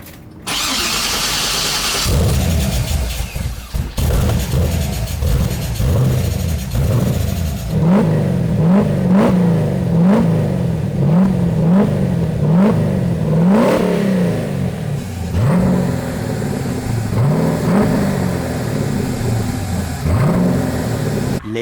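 A V8 engine with a homemade exhaust starts up and revs repeatedly in loud, rhythmic blips over a rumbling idle, recorded up close with no talking.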